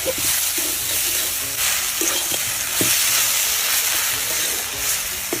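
Pea shoot greens fry hard in a pan, a loud, steady sizzle broken by irregular spatula clacks and scrapes as the leaves are tossed and stirred close by.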